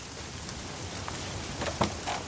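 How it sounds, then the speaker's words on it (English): Rain falling at a beach in Italy, a soft steady hiss of drops with a few brief louder patters, fairly faint and without voices. "Can you believe this rain?"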